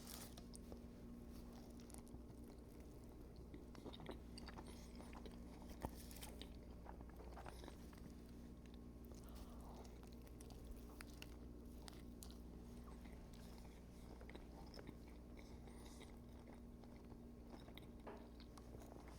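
Someone chewing a bite of Buc-ee's brisket eaten plain without barbecue sauce, soft close-up mouth sounds and faint crunches over a low, steady background hum, very quiet.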